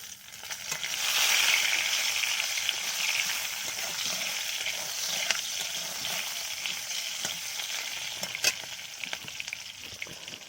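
Pabda fish with green chillies sizzles in oil in a wok, a steady crackling hiss overlaid with scraping stirring strokes, close and continuous, with no talking.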